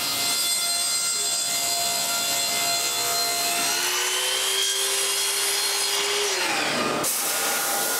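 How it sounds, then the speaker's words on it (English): Laser cutter cutting a plywood box, a steady loud whine with shifting tones as the head moves, ending abruptly with a sharp stop near the end. "As usual, cutting a box with a laser takes a long time."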